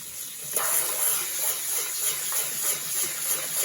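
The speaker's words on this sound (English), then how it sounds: "we're gonna wash it several times through until the water becomes clear" Water gushes steadily into a pot of rice being rinsed, a continuous close splashing pour with no voices.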